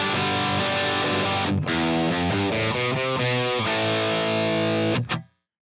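An electric guitar plays heavy distorted chords through a Marshall JCM 800-style lead amp tone, loud and sustained, with shifting chord changes and a final ringing chord that cuts off abruptly.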